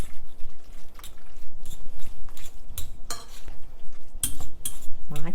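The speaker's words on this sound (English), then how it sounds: "So now we're just going to stir this up." Sausage dip being stirred in a pan with a utensil, scraping and clinking against the metal in irregular strokes, close and clear, with faint sizzling underneath and no talking.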